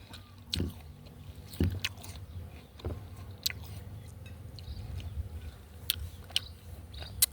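Someone chews crunchy guava dipped in chili, salt and sugar, with several sharp, close bites and steady wet chewing between them. No one speaks.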